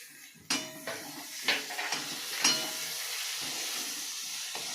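Tomatoes added to deep-red fried onions sizzle and hiss steadily in a pan for homemade chicken biryani, with several sharp clinks of a utensil against the pot punctuating the close, continuous frying noise.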